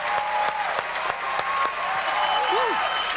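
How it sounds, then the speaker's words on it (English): Studio audience applause for a woman on a children's television show, a loud steady wash of clapping with cheers and whoops rising over it, and a voice calling out near the end. "Give that lady a nice big round of applause."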